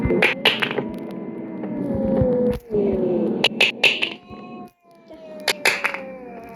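A cat in a video game meows angrily and repeatedly in drawn-out, whiny yowls, with short pauses between calls and a low hum underneath.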